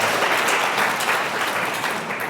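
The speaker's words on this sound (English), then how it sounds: "So give him a round of applause." Audience applause at a Night of Ideas talk event at the Smart Museum: dense, steady clapping from a crowd, fairly loud and continuous throughout, fading slightly toward the end, with no speech over it.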